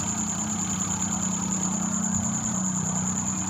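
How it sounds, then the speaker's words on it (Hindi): A Suzuki Carry Bolan engine running rich at high RPM runs steadily and loudly throughout, a constant revving drone with a high-pitched whine on top and no pauses. "RPM भी इसका ज़्यादा चल रहा है, और इंजन में से शोर भी काफ़ी आ रहा है"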